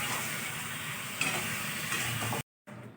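Chicken being stirred and sautéed in a pan: steady close sizzling with scraping stir strokes, cut off by a short silence before the frying resumes, no voices.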